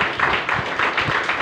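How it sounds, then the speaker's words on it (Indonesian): Church congregation clapping in a steady rhythmic beat, close and fairly loud, the claps falling in an even repeating pattern throughout. "Tepuk tangan untuk Dia."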